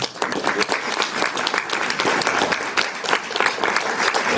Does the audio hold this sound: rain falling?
no